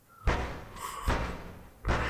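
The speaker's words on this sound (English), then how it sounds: "Someone knocks at the front door." Three heavy knocks on a front door in a video game, spaced about three-quarters of a second apart, each a loud, close, boomy thud with a short tail, with no voices.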